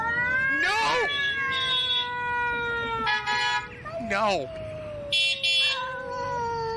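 A kitten yowls and caterwauls repeatedly in long drawn-out wailing cries, loud and close, with a car horn honking in short bursts between them and a person briefly speaking.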